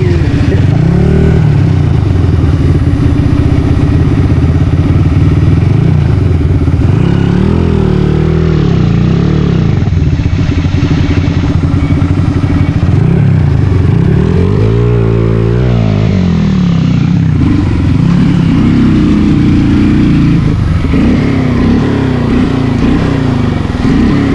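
A motorcycle engine runs loud and close throughout, its pitch rising and falling in repeated revs, with a rough, droning rumble underneath.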